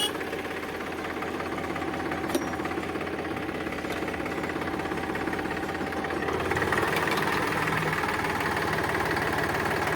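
A Powertrac 439 tractor engine runs steadily at idle for the whole stretch, a continuous low, knocking mechanical drone that swells slightly in loudness toward the end.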